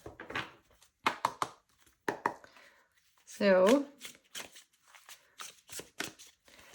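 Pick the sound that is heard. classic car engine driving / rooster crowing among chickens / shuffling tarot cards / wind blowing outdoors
shuffling tarot cards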